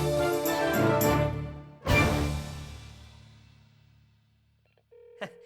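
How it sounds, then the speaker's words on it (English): A telephone rings with bright electronic tones that fade away, then a steady beep tone sounds near the end. "It's ringing."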